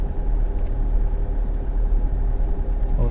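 A car engine works steadily on a quiet countryside road, a low continuous rumble holding even and close for a few seconds with no voices.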